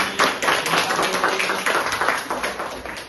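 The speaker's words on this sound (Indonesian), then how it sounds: "tepuk tangan untuk Adeni" A classroom of students claps for a classmate named Adeni, a dense, lively burst of hand claps close by that carries on steadily for a few seconds.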